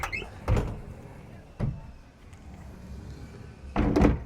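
Sliding doors on a Monte Carlo Yacht 70 luxury yacht, heard as three separate broad slide-and-thud bursts near the start, middle and end, fairly close with quiet room tone between and no talk.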